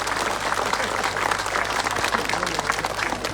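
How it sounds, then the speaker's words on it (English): Dense, loud crowd applause fills the air at the opening of a GAA 3G pitch, a continuous wash of many hands clapping with some crowd noise. "please give a good round of applause till I finish"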